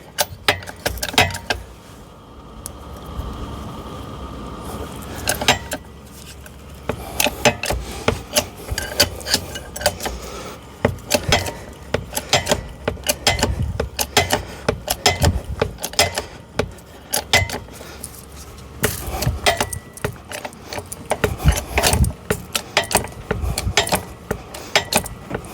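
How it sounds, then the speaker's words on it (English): A bottle jack lifts a car on low-profile hydraulic car ramps, giving loud, close metallic ratcheting, scraping and clanking in irregular bursts, with brief pauses between pumping strokes. "So now we're going to jack this up."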